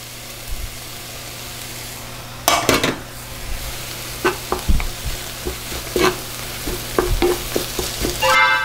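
Meat sauce goes into a hot pan with chicken, sizzling under repeated scraping and stirring strokes and clinks of a utensil against the pan, close and fairly loud.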